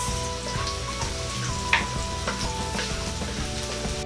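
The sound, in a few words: garlic frying until light brown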